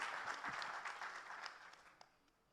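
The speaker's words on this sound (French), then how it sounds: "On l'applaudit." Applause from a tech conference audience after a speaker finishes, a dense wash of clapping that fades gradually over a couple of seconds, ending with a few stray claps.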